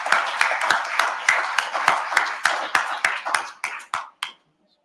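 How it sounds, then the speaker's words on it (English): Applause from a conference audience thanking the organizers of a founders' event: a steady run of hand claps that thins into a few scattered final claps before stopping, fairly close and alone without talk. "why don't we give a round of applause to the organizers for this fantastic event"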